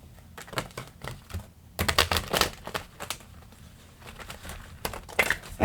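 Tarot-style spiritual cards being shuffled up close in uneven bursts of riffling and crisp snapping, with short quiet gaps between.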